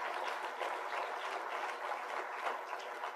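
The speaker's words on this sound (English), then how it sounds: "So let's have a round of applause for that." Steady, dense applause fills a large hall at a birthday celebration event, a broad wash of many hands clapping continuously without breaks, somewhat distant.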